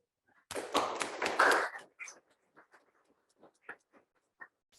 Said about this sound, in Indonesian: beri aplaus dulu kepada Adit